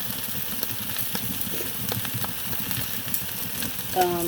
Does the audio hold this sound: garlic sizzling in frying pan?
yes